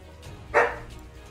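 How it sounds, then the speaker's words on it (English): A dog barks once in the video game High Roads, a single short bark at moderate distance over a quiet background. "They bark at you"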